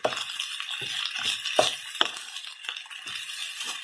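Spatula stirring and scraping fried rice in a hot pan, local Hawaiian bar-food style, with rhythmic metallic scrapes and clinks over a steady sizzle, close and fairly loud.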